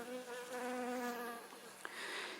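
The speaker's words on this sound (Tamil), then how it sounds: "இத்தாலி தேனீ வந்து எள்ளுலேருந்து போலன் கலெக்ட் பண்ணது பாருங்கள்." An Italian honey bee collecting sesame pollen gives a steady, close, faint buzzing drone for a couple of seconds, with no one speaking.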